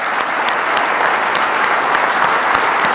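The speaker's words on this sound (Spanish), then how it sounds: "Y un aplauso para ustedes" A large audience at a political event honoring Falklands War veterans bursts into loud, dense applause that sustains without a break, close and enveloping.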